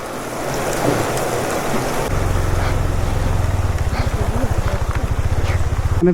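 Heavy rain hisses steadily, and partway through a low motor begins chugging rhythmically underneath it.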